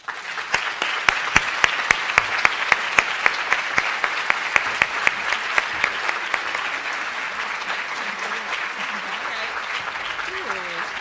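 A university auditorium audience claps for a keynote speaker, sustained applause with some sharp individual claps standing out near the front, continuing steadily throughout with a light crowd murmur underneath.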